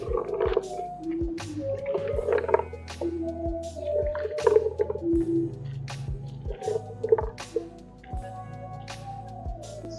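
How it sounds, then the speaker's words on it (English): Herbs are pounded for Ugandan palm nut soup, giving a steady series of close, dull thuds at a regular rhythm, each strike sharp and brief, with some softer squelching between blows. "She's going to pound the herbs also."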